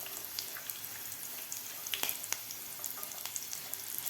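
Peanuts fry in hot oil with curry leaves and chilli, making a steady close sizzle dotted with sharp crackles and pops.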